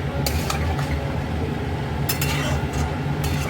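Bottle gourd tossed with salt in a pan, a steady scrape-and-rustle of stirring with a few brief metallic clinks of the spoon against the pan, close and continuous.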